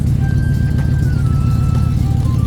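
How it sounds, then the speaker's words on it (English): Exhaust manifold leak on a 1997 Ford F250 truck with the 5.4 engine, heard close under the hood: a loud, steady low engine rumble with a continuous ticking, puffing texture and no talk. "this is where the exhaust manifold leak is under here. You can already hear it."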